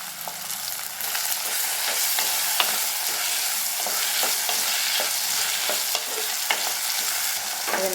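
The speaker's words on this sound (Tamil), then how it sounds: "அது நல்லா வெந்து வதங்கி வரணும்." Chopped onion and tomato sauté in an oiled pan for a crab curry, giving a steady sizzling hiss with occasional scrapes and clicks of stirring.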